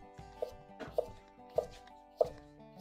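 A knife chops carrot into thin julienne strips on a board, five crisp, evenly spaced cuts about half a second apart, close and clear with no talking.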